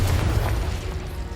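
A Confringo blasting spell in Hogwarts Legacy, heard as a short, loud, low booming burst that rumbles briefly and fades.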